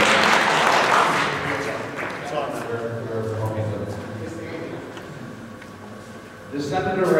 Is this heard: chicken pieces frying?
no